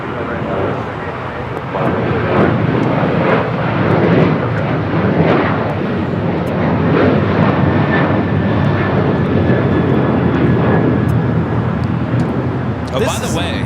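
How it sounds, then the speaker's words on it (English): An Alaska Airlines Boeing 737-800 takes off at LAX with a loud, sustained jet roar close by. The roar holds steady for the whole stretch, with faint chatter mixed beneath it. "That was Alaska Airlines 1394 taking off to Liberia on a 737-800"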